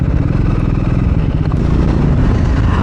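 A Triumph Scrambler 400X motorcycle engine drones loud and steady while riding, with a constant pulsing mid-range note and wind rush, heard close throughout with no talk.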